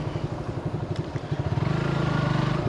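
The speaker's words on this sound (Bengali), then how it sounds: "বাইক বেশি জোরে চালাবো না, আস্তে আস্তে চালানোর চেষ্টা করব" A motorcycle rides slowly through a village, its engine putting out a steady, even throb with pulses that quicken slightly toward the end, close and fairly loud with no talk over it.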